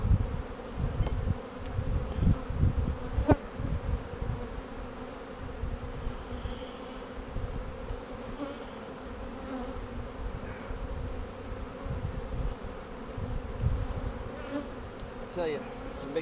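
Honey bees buzz steadily around hives being supered in Tiffin, Ohio, a dense continuous hum with occasional louder passes close by, no talking.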